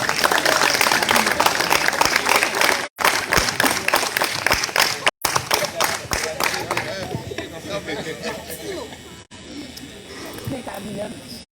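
Applause welcomes an arrival at an opening Mass for a university in Haiti, a big crowd clapping loudly and steadily in a church, fading toward the end as chatter remains.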